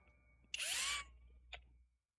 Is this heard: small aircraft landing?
no